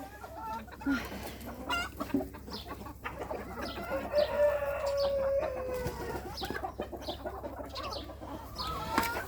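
Several chickens being fed cluck and chatter nearby, with a rooster-like call rising through the busy, steady flock noise.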